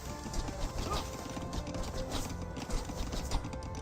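Horse hooves clip-clopping in Age of Empires 2: Definitive Edition as a scout horse moves, a quick steady trotting patter under game ambience, without talk.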